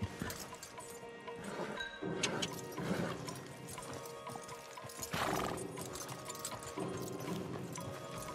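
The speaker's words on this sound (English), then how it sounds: "Javier, you're gonna lead the stallions." Horses in Red Dead Redemption 2 clip-clop with uneven hoofbeats and let out several whinnies, with small metallic clinks of tack mixed in. The whole scene is fairly faint and no one speaks.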